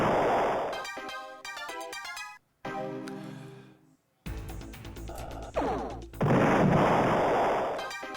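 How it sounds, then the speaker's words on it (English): A spaceship fires its weapons during a space battle in The Ur-Quan Masters, heard as loud synthetic blasts in bursts with brief silent gaps between them, close and harsh. "So we fire 3 shots doing,"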